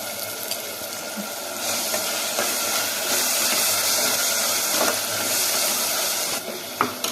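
Steady sizzling of turmeric and spices frying in hot oil, a continuous crackling hiss with occasional louder pops, close by and without speech.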